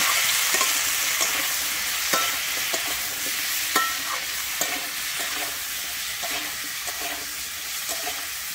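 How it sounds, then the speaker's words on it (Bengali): Flat beans (sheem) frying in oil with salt and turmeric, a steady sizzle with frequent sharp clacks and scrapes of a stirring spatula against the pan, close and alone with no voices. "আমি শিমটাকে কিন্তু ভালোভাবে ভেজে নেব।"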